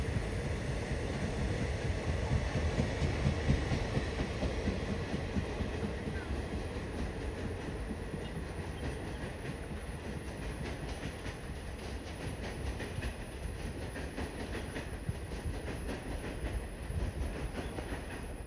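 An Intercity express train rushes through Nileshwaram railway station, a loud, steady roar of rolling wagons with rhythmic clickety-clack of wheels on rails sustained throughout.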